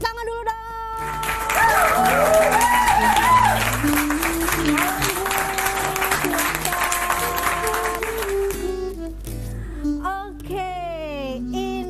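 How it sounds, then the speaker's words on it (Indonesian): A TV studio audience breaks into loud, sustained applause for about seven seconds that then fades, with music playing underneath and a voice talking as the clapping dies away. "Tepuk tangan dulu dong."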